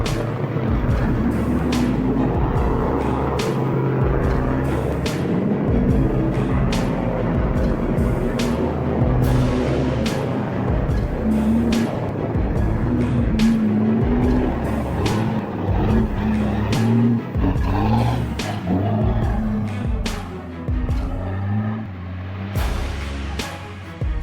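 Cattle truck stuck in mud, its engine labouring loudly and continuously as the wheels spin, with rough, uneven revving and clattering bursts throughout.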